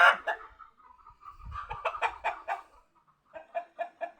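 Rapid bursts of chicken clucking and squawking, a series of short agitated calls with brief pauses between them, fairly close.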